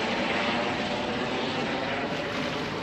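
A fixed-wing aircraft flies near an airport with a neighbouring heliport along the coast of Antigua, its engine a steady, loud broadband roar that holds evenly for about three seconds with no voices.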